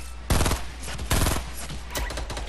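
Gunfire in the video game Fortnite, two loud clustered bursts of rapid shots and then a fainter spatter, over a steady low background hum.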